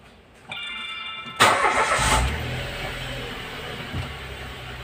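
A Mitsubishi Mirage engine starts and settles into a steady idle, heard close with a sharp onset followed by a continuous low hum and rumble.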